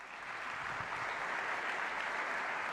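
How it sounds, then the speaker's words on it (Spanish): Faint, steady applause from an audience at a talk, a soft continuous patter of many hands clapping at a distance. "Lo recibimos con un fuerte aplauso."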